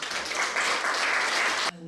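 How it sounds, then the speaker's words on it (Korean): Church congregation applauding to welcome a guest singer at a spiritual retreat closing service: steady, dense clapping filling the room, then cutting off abruptly near the end. "나오실 때 큰 박수로 환영해 주시면 고맙겠습니다."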